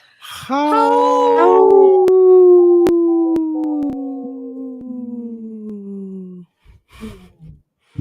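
A wolf howls in one long, rising then slowly falling tone, clear and close, joined briefly by a second overlapping howl before fading out, followed by a few faint yips.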